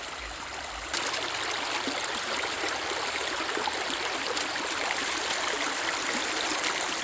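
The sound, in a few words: creek water flowing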